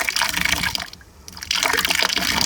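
Coolant draining out of the radiator hoses of a Porsche Boxster 986, a steady close splashing and gushing of liquid that briefly eases off mid-way before pouring strongly again.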